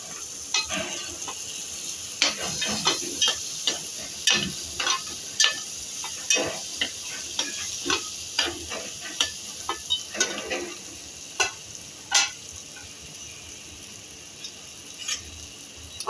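Potatoes being stirred into a frying tomato gravy in a pan, a faint sizzle underneath a string of irregular sharp clicks and scrapes from a spoon against the pan, close and with no talking.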